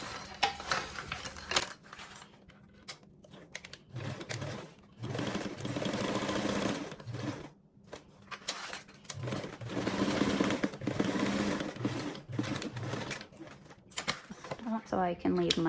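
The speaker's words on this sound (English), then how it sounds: "I'm going to go ahead and sew up across here and then here with" A sewing machine stitches a quarter-inch seam across quilt fabric in close, loud bursts of rapid needle chatter, pausing and restarting several times; light handling noise fills the gaps, with no one talking over it.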